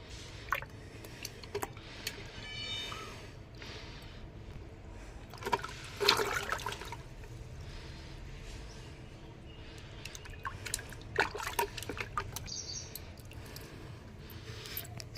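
Water runs and splashes faintly as dried henna is rinsed off hands, a low steady trickle broken by a few brief louder splashes and drips.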